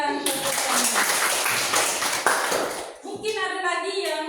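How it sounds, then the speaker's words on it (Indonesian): Classroom applause breaks out as a dense burst of clapping from a group, loud and sustained for a few seconds before fading as voices resume talking. "kita berikan tepuk tangan"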